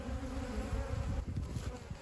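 A swarm of honeybees hums steadily and densely at close range during a capture, a continuous droning buzz that holds level throughout with no voices.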